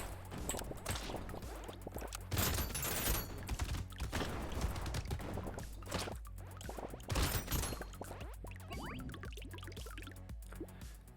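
Dense, rapid-fire chained explosions in the game Brotato crackle and pop continuously, with louder bursts surging at a few points amid constant clattering game effects.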